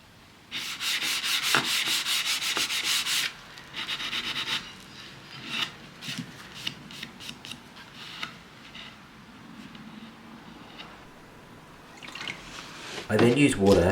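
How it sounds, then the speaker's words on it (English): Hand sanding of dried filler on the corner of a mid-century modern furniture piece, heard as intermittent close rubbing and rasping strokes, some brisk and some soft, with quiet gaps between. "Once dry, I sand it to shape."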